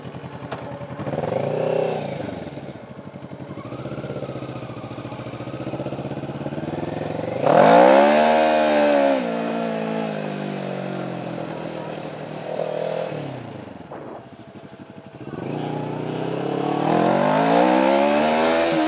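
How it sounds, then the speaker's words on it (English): Motorcycles and then cars heading onto a race track, engines droning and revving in overlapping passes, with one especially loud, close surge mid-way and rising engine sweeps coming and going. "The bikes just went in, and then when they're finished, the cars got to go in"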